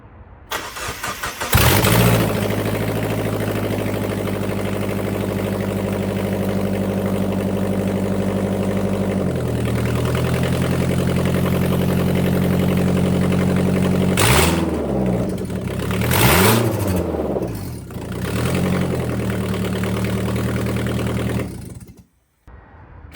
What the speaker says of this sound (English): we're gonna start the car and see what it sounds like with the headers off